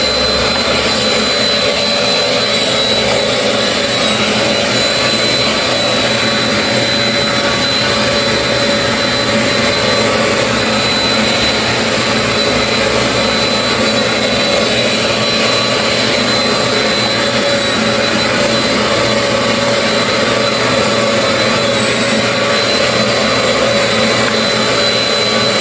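A vacuum cleaner runs steadily and loudly throughout while the floor is cleaned, its motor giving a constant whining roar with no pauses.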